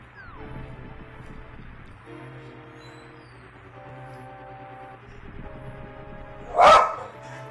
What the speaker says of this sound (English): Jack, don't come in here to bark, dog.